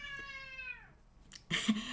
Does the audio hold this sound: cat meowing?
yes